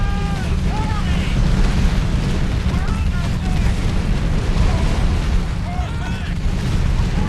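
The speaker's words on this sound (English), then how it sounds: "I start force firing on their army" Artillery and units force-firing on an enemy army in a real-time strategy video game, heard as a continuous dense rumble of distant booms and explosions with faint whistling shells on top, steady throughout.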